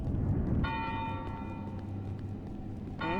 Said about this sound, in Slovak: Fajný zvon.